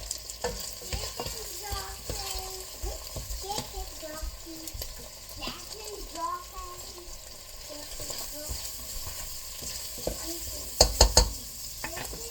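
Chicken broth being stirred in a cooking pot, with soft scraping and liquid swirling sounds running steadily throughout, a faint frying sizzle beneath, a few voiced murmurs, and a short burst of sharp metallic clinks near the end.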